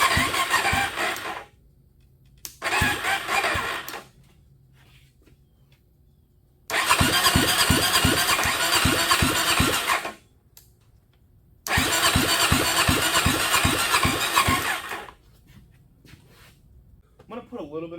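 A cheap used dirt bike running with its exhaust removed fires up in loud, raw bursts of a few seconds each, dying back to near silence between attempts before catching again.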